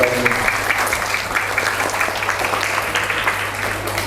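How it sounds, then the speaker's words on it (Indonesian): Steady applause from a crowd at a school Quran recitation ceremony, continuous clapping that stays even throughout. "Berikan tepuk tangan untuk Mas."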